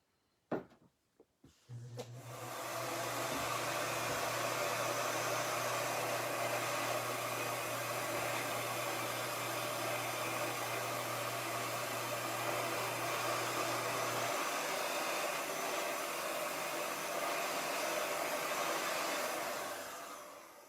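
An electric blower or heat gun runs steadily, warming and drying the middle of a freshly thrown pottery piece to prevent warping; a loud, continuous whoosh with a low hum that drops partway through, preceded by a few small clicks.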